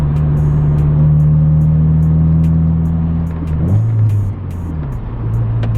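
Steady engine drone of a 90s Honda Del Sol driving in the rain, heard from inside the car, with a shift in engine pitch partway through and faint ticking or tapping above the hum.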